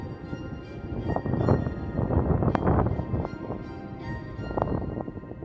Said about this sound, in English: Seems like it's pretty windy.